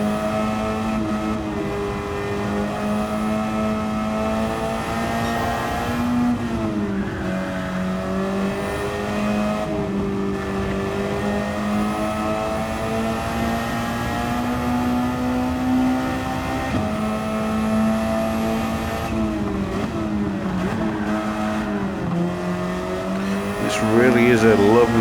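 A high-powered race car lapping St. Croix Circuit holds a steady, loud engine drone that shifts pitch as it revs, with brief tire squeal near the end and a voice talking over it.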